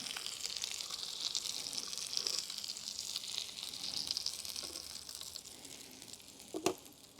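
Steady crackling sizzle of fish frying in a small pan on a Trangia 27 camping stove, continuous and close, with a soft clink of a utensil near the end.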